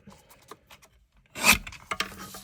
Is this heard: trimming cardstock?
yes